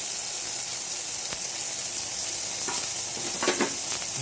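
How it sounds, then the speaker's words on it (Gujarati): Finely grated potato stirred into a hot pan with chopped tomatoes for a brinjal and val bean curry, giving a steady close sizzle broken by a few scraping stirs. "પછી આપણે બટેટી ઝીણું ખમેલું છે એ પણ સાંતળી લઈશું"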